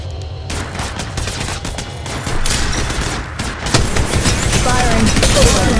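Sustained rapid gunfire from a first-person shooter, Apex Legends Mobile, with dense overlapping bursts and booms playing loud and continuously throughout.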